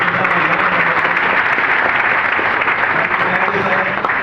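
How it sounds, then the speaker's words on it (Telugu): Dense, sustained clapping from a large crowd, loud and continuous throughout, with a faint murmur of voices mixed in. "హార్ట్ఫుల్ గా బిగ్ క్లాప్స్ ఇవ్వండి ఒక్కసారి"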